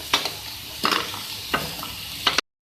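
A spoon scrapes and stirs samosa filling seasoned with white pepper and salt in a hot pan, several distinct strokes with a faint sizzle beneath, close and clear, ending abruptly in silence.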